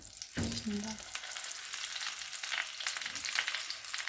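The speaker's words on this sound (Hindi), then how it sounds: "4 से 5 मिनट तक रान को फ्राई करेंगे।" A mutton leg fries in melted butter, making a steady, fairly quiet hiss and crackle with a brief clunk near the start as the meat settles in the pan, and no speech.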